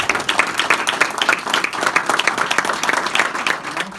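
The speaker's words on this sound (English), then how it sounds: "Let's give him a round of applause." An audience applauds George Lang as he launches his Ohio Senate run, with dense, lively clapping held steady throughout.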